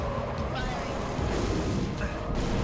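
Steady gunfire in the video game Halo: Reach as enemies charge, a dense continuous roar of shots and rumbling combat noise, with players talking over it.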